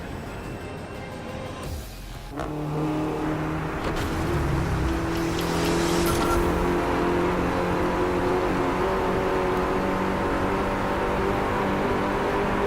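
A car engine in the Driveclub racing game on PS4 pulls away and accelerates, a steady rising engine drone that builds after a brief shift and holds at a loud, even level with no talk.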